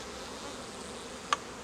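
Honeybees buzz softly around queen cells and grafted cups on a hive frame, a faint steady hum with one brief sharper buzz as a bee passes close.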